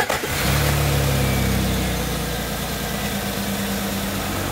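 A hot 2002 Jeep Grand Cherokee engine idles in neutral, giving a steady, close, loud low rumble with a faint mechanical hum and no talking.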